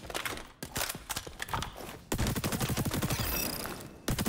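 Bursts of gunfire from a video game weapon fire in short, rapid volleys with brief gaps between them, loud and close, with no voices over them.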